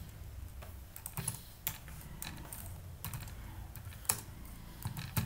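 Code being typed on a computer keyboard: soft, steady key clicks run throughout at close range, with a few sharper keystrokes standing out and no talking.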